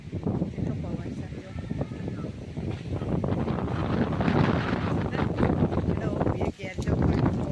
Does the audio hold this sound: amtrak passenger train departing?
no